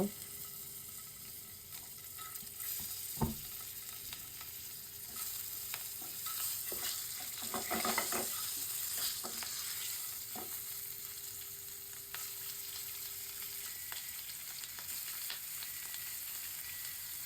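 Duck eggs fry in a pan of butter with turmeric powder, giving a soft continuous sizzle with a few scrapes and stirs of a utensil, quiet and close.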